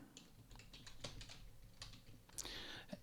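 Keys clacking on a computer keyboard as a command is typed, a quick irregular run of close, crisp taps with short pauses and a louder burst near the end.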